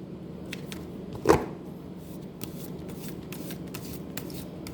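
Tarot cards are shuffled by hand in a quiet room: one quick, crisp riffle burst, then soft scattered card taps and light rustles.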